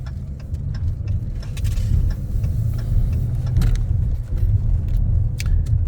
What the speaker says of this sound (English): Coming up to the stop sign, I turn my blinker on first, then I start to decelerate, come to a complete stop